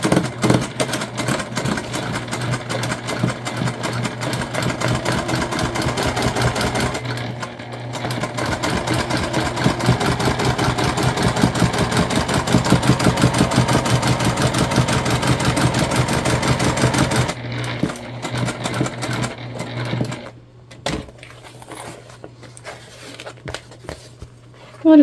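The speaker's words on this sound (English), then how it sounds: "top stitch our seam flat" Sewing machine top stitching along both sides of a butterflied bottom seam on a crossbody bag, a steady rapid needle chatter running almost continuously with brief pauses and a low hum underneath, then stopping near the end.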